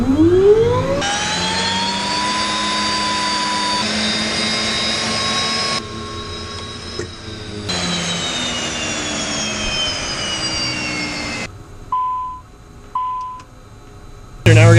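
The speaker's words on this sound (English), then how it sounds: "He's going to go ahead and crank the engine and then give me a hand signal of when to introduce water" An aircraft turbine engine cranking for a compressor wash during a 100-hour inspection: a loud rising whine with steady tones runs, drops out and resumes, then cuts to short beeps and clicks near the end.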